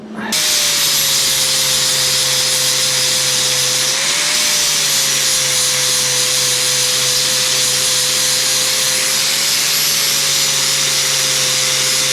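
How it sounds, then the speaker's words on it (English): A power grinder whines steadily and loudly for several seconds while grinding metal flush on a dump truck frame, its pitch dipping slightly as it bites into the metal, with no talking. "Grind that flush and we should be able to drill it."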